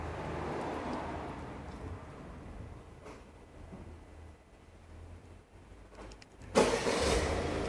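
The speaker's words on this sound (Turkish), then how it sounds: "Çalıştırın aracı." A Peugeot 3008's engine cranks and catches near the end, a brief louder burst that follows a long stretch of faint, low rumbling ambience.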